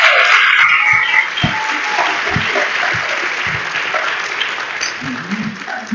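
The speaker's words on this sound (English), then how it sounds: "please give Sister Pound a round of applause" An audience applauds for a woman at an evening gathering, a dense wash of clapping that fades gradually, with someone speaking over it near the start.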